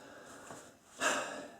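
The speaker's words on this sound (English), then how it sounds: "Deep breath to feel better." A person takes a deep breath, with a soft intake followed by a louder, longer airy exhale near the mic, alone in a quiet room.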